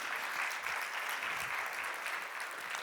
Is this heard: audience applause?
yes